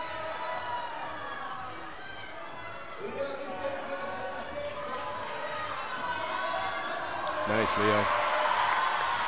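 A crowd at a youth bouldering national finals cheers and claps for a climber working a problem, the noise swelling toward the end. Spectators call out encouragement, and a commentator talks over the cheering.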